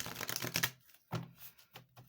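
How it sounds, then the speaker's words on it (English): A quick flurry of crisp card riffling and slapping, close and fairly quiet, followed by a few softer taps and shuffles. "We'll give it one quick shuffle."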